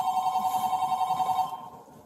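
A telephone rings with a steady electronic warble for about a second and a half, then cuts off, leaving quiet room tone; no one speaks.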